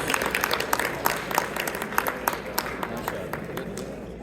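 Audience applause at a charity fundraising dinner, many hands clapping in a brisk, dense patter with distinct nearby claps, fairly loud and slowly easing off toward the end.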